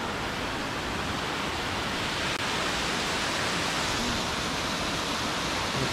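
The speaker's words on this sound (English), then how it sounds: "this awesome waterfall spot here in Ubud." Waterfall in Ubud, Bali, a steady, loud, close roar of falling water that fills the whole clip without any pause, with no voices heard.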